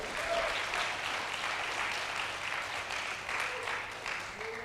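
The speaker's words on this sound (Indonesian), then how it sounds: "Kita berikan sorak-sorai buat Tuhan Yesus." A church congregation cheers and applauds for Jesus during a worship service, producing a sustained wash of clapping and voices that swells and fades slightly over several seconds.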